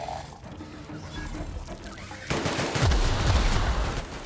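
Loud gunshots in the sci-fi shooter The Outer Worlds, a quieter stretch of combat noise giving way to a heavy barrage of blasts and booming impacts in the second half.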